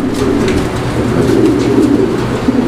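Many fancy pigeons coo together in a dense, continuous low burble, close and fairly loud, with no speech.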